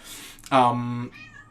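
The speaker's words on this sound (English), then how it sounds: "my cat is like meowing right now" Single clear cat meow, close and fairly loud, a drawn-out tonal call lasting about half a second, with faint room noise around it.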